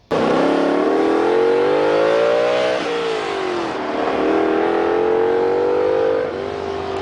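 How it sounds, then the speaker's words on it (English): A 580-horsepower 6-liter V16 engine revs hard and loud, its pitch climbing steadily, dropping briefly as it shifts, then climbing again in a sustained howl with no voices over it. "you got a 580 horsepower 6-liter V16 that sounded like this."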